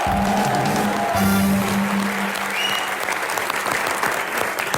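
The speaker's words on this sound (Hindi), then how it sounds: "एक बार जोरदार तालियां रजत सर के लिए।" Studio audience at a TV comedy show bursts into loud, dense clapping that carries on for several seconds and then thins, with a brief tonal sound near the start.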